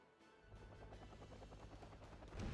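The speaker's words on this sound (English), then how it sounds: "Helicopter crash is so cool." A helicopter crash in the Wargame Red Dragon strategy game, a steady low thudding rotor pulse with rapid gunfire-like rattling, building to a louder blast at the end, moderately quiet and without speech.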